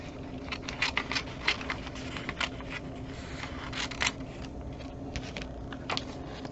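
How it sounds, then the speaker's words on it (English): Scissors snipping and crinkling tape off freshly sublimated socks, close irregular snips and rustles over several seconds without talk. "Let's cut this tape off."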